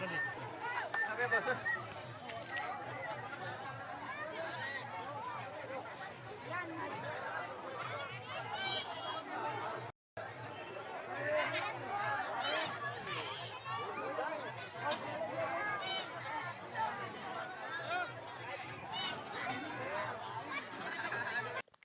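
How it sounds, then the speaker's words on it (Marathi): Dense crowd chatter at a village fair during a harinam saptah celebration in the evening, with many overlapping voices, occasional laughter and a steady hum of activity, loud and continuous throughout. "संध्याकाळ झालेली तरीसुद्धा यात्रेमध्ये गर्दी आहे"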